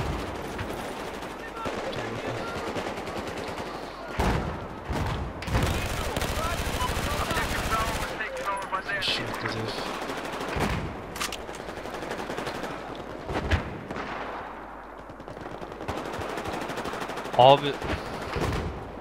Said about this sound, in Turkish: Saiga 12K nedir bu? Bu nasıl bir silah? Shotgun.